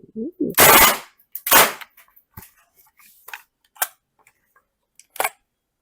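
Gas-powered airsoft BB long rifle fired until the magazine runs dry: several loud, sharp, close cracks come in quick bursts, then thin out into fainter, sparse clicks and pops.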